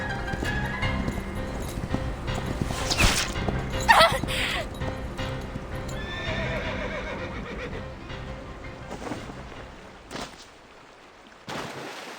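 Horse neighing and hoofbeats in the Reverse: 1999 game, a whinny rising near the middle over galloping clip-clop and busy game effects, with a voice briefly heard.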